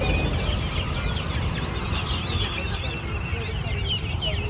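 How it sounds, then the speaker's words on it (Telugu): A dense, constant chorus of high peeping from many ducklings, quail chicks and chicks at the Nallapadu Friday market, overlapping continuously over a low background rumble. "బాతు పిల్లలు కౌకి పిట్టలు అండ్ కోడి పిల్లలు చాలా అయితే ఉన్నాయి"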